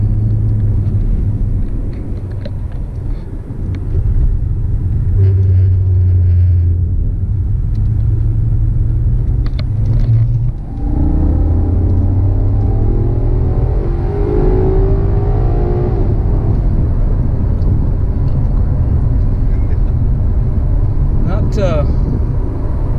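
A Maserati GranTurismo Sport, rated at 455 horsepower, drives along with a deep steady engine rumble and road noise from inside the car, the engine swelling as it accelerates, with someone talking over it at times.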